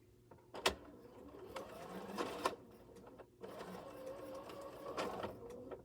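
A home sewing machine runs in short bursts with an uneven, kicking rhythm, stopping and starting between stitch runs at close range with no talk.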